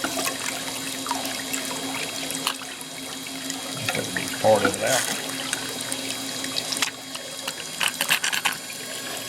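Water runs and splashes steadily on a Martin gold prospecting water table, a continuous gurgle with a few louder sloshes, while someone talks over it.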